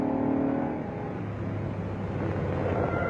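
A 1969 Dodge Charger Hemi Daytona with an automatic transmission accelerates, giving a brief engine tone that fades into a low, fairly faint rumble from some distance.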